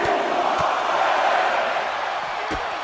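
A wrestling crowd in Norfolk roars steadily throughout, a broad, sustained wash of cheering and shouting at close range with a few sharp whoops and thumps standing out.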